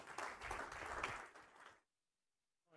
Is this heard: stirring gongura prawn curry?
no